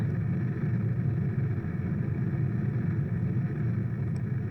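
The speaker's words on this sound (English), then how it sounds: "we will throttle down the engine, because we are burning our liquid fuel faster than our solids" A rocket engine in the video game Kerbal Space Program rumbles steadily as it is throttled down, a continuous low, even drone with no talk over it.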